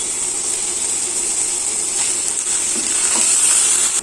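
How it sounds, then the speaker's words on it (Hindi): Ginger garlic paste fries in a pan after onions, giving a steady, fairly loud hiss and crackle of frying that holds for several seconds with no talking. "अब इसमें हम डालेंगे अदरक लहसुन का पेस्ट। इसको थोड़ा सा फ्राई कर लेंगे।"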